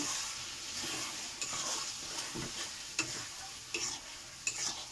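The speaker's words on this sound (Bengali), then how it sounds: "এতে আমি ভালো করে কষিয়ে নেব" Green chilli, ginger and black pepper sauté with onion and garlic in a pan, a quiet steady sizzle broken by several sharp clinks of stirring, close with no talking.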